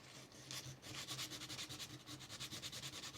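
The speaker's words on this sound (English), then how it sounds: "Just using a little bit of 320 sandpaper to try to clean off this edge" A guitar neck edge is sanded by hand with 320-grit sandpaper, a quick run of rhythmic back-and-forth rasping strokes, close and fairly quiet, with no voices.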